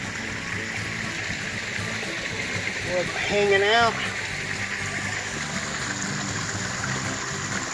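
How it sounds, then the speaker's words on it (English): A rock waterfall in a garden spills into a fish pond with a steady, continuous rush and splash. The sound stays constant throughout while someone talks briefly over it. "There's that waterfall."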